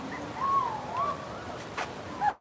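Gibbons calling in an enclosure at Disney's Animal Kingdom, a few rising and falling whooping hoots carrying from a short distance over faint outdoor ambience, ending in a sharp upward note.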